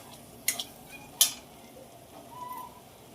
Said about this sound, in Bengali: ঘুগনির মশলা একদম ভাজা হয়ে গেছে।